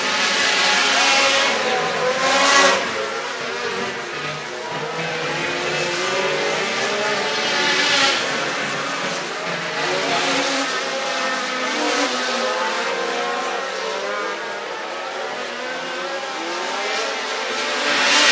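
Race cars lapping Screven Motor Speedway in Sylvania, Georgia, one car nearly spinning in turn one, their engines a continuous loud roar that swells and fades as cars pass, with commentary talk underneath.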